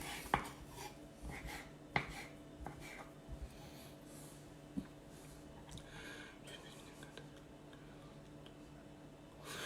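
Knife chopping smoked herring into small pieces on a board, a few sharp isolated cuts against a quiet kitchen background, with faint low hum throughout.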